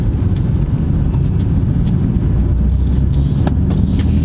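2018 BMW M4 Competition F82 engine droning steadily from the cabin in manual mode, a dense low rumble with faint brief shift blips and ticks near the end, no voices.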